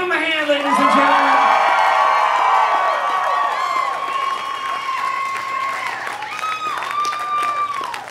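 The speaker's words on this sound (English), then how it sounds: "One, two, three, give them a hand, ladies and gentlemen" Audience at a hypnosis show applauding and cheering for the volunteers: loud, sustained clapping with whoops and shouts from a lively crowd, steady throughout.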